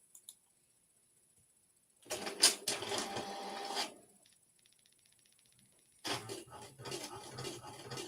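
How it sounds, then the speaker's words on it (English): A printer printing a page runs in two loud mechanical bursts of whirring and clicking, each lasting about two seconds with a quiet pause between, close by in a quiet room. "Can you hear the printer?"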